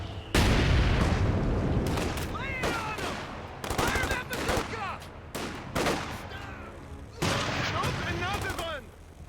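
Heavy .50 cal machine gun fire in a World War II team battle game, loud bursts of rapid shots recurring across the clip with echoing booms, while voices talk over the gunfire.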